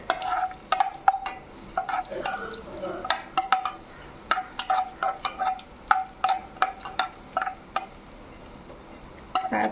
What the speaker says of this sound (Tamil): முந்திரி வறுக்கிறதுக்கு 2 ஸ்பூன் நெய் ஊற்றியிருக்கிறேன்